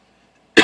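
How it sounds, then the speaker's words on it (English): A single sudden cough bursts out loud and close after near silence. "I don't know why I got this little cough all of a sudden."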